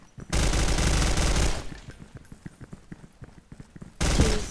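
Rapid automatic gunfire from the online shooter Special Force 2, a loud sustained burst, then scattered quieter shots and clicks before another heavy burst erupts.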